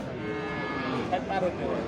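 A cow moos at a cattle market, a low drawn-out call that is fairly close, amid background crowd murmur.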